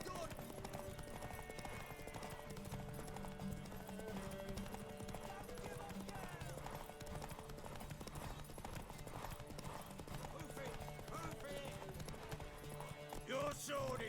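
A horse's hooves clip-clop rhythmically in The Witcher 3: Wild Hunt beneath music and voices talking, the horse steady and moderately close throughout.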